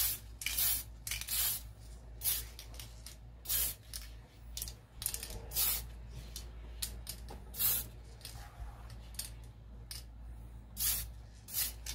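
Short, light bursts from a spray paint can coat a Tamiya Super Avante TD4 RC car body, a dozen or so hissing blasts in an uneven rhythm, close and clear over a low background hum.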